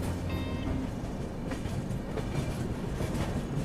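An Indian long-distance passenger train rolls toward Visakhapatnam with a steady rumble and faint wheel clatter, heard from inside the carriage. The noise stays continuous and even, with no talking.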